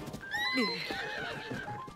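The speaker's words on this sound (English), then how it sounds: "Damn fox scared the crap out of my horse which was really cool." Horse in Zelda: Tears of the Kingdom giving a close, clear, falling whinny after being startled by a fox, with light hoof clip-clop underneath.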